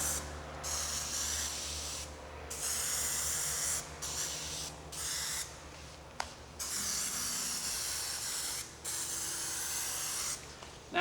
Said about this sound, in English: we'll spray some glue on the back side with it on top of the foam